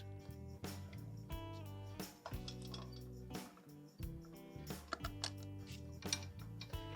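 A motorcycle chain is turned by hand on the front sprocket while skipping links, giving close, irregular metallic clanks and ratcheting clicks with ringing tones between them.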